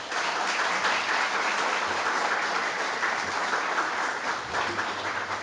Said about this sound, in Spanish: Por favor, aplausos para...